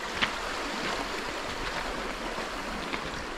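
Water of Yomi Creek flowing at an outdoor spot just off the road in the high country, a steady broadband rush with no talk.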